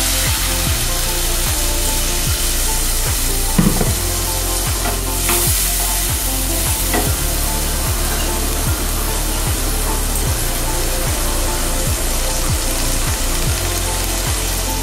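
Water poured into Bengali spice paste that has been fried in oil until the oil separates, for a green banana kofta curry, with a loud, steady sizzle that runs throughout, broken by regular scraping stirs.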